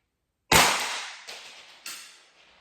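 One sharp shot from a Salt Supply S2 salt gun, a sudden loud crack followed by a decaying rattle with two fainter echoing pops, no talking.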